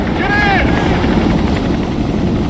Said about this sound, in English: Got a helicopter.